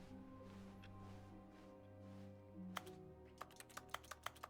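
Glass in The Stanley Parable video game that sounds like a computer keyboard: a few sharp clicks and then a faster run of key-like taps, faint and close over a steady low hum.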